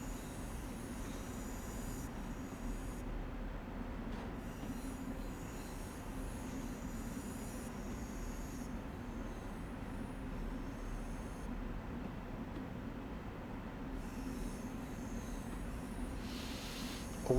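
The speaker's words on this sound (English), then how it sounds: "We're now arriving into New York Penn," Long Island Rail Road commuter train in Train Sim World 4 arriving at New York Penn, a steady low rumble of rolling wheels and motors, even and continuous throughout.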